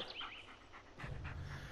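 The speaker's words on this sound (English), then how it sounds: "This is Bullet, your right-hand dog." Panting from Bullet, the dog companion in the horror video game Blair Witch: a soft, quick rhythmic huffing close by, with the breaths growing fuller and more steady in the second half.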